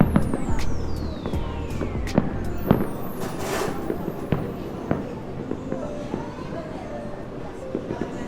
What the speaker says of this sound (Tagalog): Sakto, meron tayong fireworks sa background.